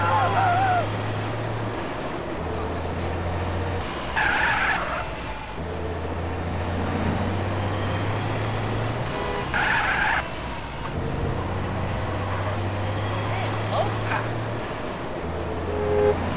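Tyres skid and squeal in bursts in Grand Theft Auto, over a steady low engine drone, with short bright screeches repeating every few seconds.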